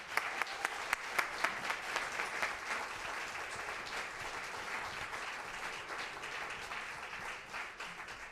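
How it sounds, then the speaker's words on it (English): Audience at a middle school band and percussion winter concert breaks into applause, opening with a few sharp individual claps that swell into a steady, moderately distant round of clapping that gradually thins out. "let's give them a big round of applause"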